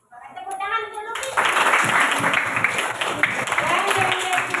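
Applause for a student in a school class, a burst of clapping from a group of children that starts after a brief spoken phrase and continues steadily, with voices mixed in.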